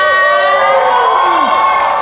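A large crowd at a stage event cheers and shouts loudly and continuously for radio station 94.5, a dense roar with a tonal sweep in the middle.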